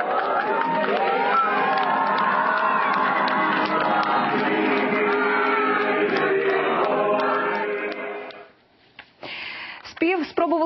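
Schoolchildren applaud and cheer at a school ceremony, a dense, loud crowd roar with shouts that keeps up steadily, then breaks off abruptly near the end into a few scattered sounds.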